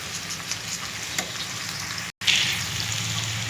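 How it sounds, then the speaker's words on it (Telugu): Ivy gourd and tomato sauté in a pan, giving a steady close sizzle with a few stirring scrapes and a brief break partway through. "దొండకాయ, టమాటా కొంచెం మగ్గించుకోవాలి ఒక 5 నిమిషాలు"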